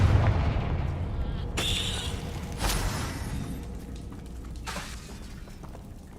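A Confringo fire spell blasts during a hard-mode duel in Hogwarts Legacy, with sharp bursting booms and shattering crashes standing out against a rumbling game soundscape.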